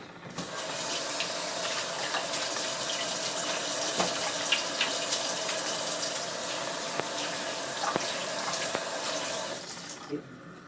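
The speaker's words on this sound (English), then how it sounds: "Let me wash my hand." A hand being washed under a running tap, with a steady close rush of water splashing into a sink for about ten seconds before it shuts off.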